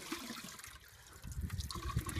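Water trickles and splashes steadily from clay pitchers into a collecting basin in a dry rural setting, growing a little fuller and louder in the second half, with no voices.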